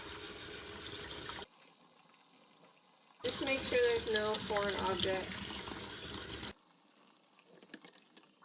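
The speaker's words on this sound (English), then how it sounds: "What we're going to do is just run some hot water through them." Hot water runs from a tap through the sprayer arm of a Whirlpool Gold Series dishwasher, a steady splashing stream lasting about three seconds between quieter stretches, with a person talking nearby.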